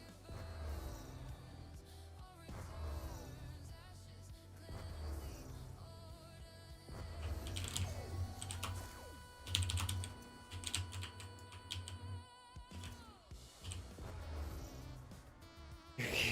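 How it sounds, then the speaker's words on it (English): Rapid typing on a computer keyboard rattles close by in steady bursts of clicky keystrokes with brief pauses, running continuously without any voice. "Your keyboard sounds like building in Lego Batman."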